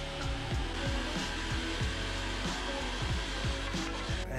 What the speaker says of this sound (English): I used my jigsaw to cut them out.